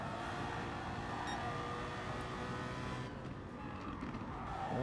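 BMW and Viper race cars in a racing video game drone past with a loud, sustained engine roar that shifts in pitch as they run together, a continuous close mechanical howl with no voices.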